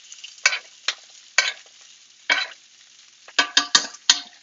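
Vegetables searing in a hot pan, giving a soft sizzle broken by a series of sharp scraping stir strokes, irregular at first and then coming in a quick cluster near the end.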